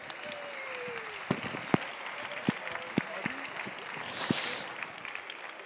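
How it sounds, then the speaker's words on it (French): Scattered, fairly faint applause from an audience at a franchise expo in Paris, with a few distinct sharp claps standing out over a soft background murmur. "On peut les applaudir encore bien fort collectivement"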